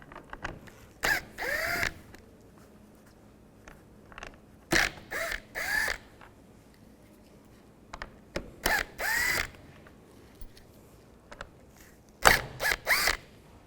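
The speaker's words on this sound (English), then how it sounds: "From the back side, we want to take these screws out." Screws being backed out with a Phillips head screwdriver from the rear of a 2011-2015 Chevy Cruze grille, heard as short bursts of close ratcheting and scraping clicks at a steady pace, with no talking.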